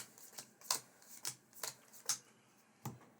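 Playing cards are shuffled by hand during a card game, a series of about eight quick, crisp riffling bursts at an uneven rhythm, close and fairly quiet with no talking.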